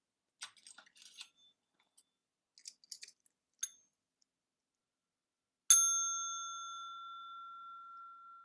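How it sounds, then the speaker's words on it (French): A meditation bell is struck once to open a group conversation, ringing out clear and close with a long fading tone after some faint scattered clicks and rustles. "je vais juste inviter à nouveau la cloche pour ouvrir ce temps de conversation"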